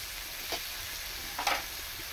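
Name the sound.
potatoes added to hot spiced oil, sizzling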